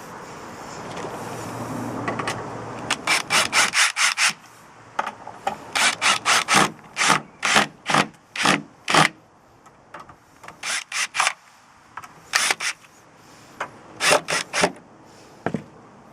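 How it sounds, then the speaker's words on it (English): Screws are driven into pre-drilled holes in the wooden sides of a planter, heard as a series of quick, sharp ratcheting bursts in rhythmic clusters, close and clear after a brief stretch of rubbing noise. "So I put a screw into every pre-drilled hole."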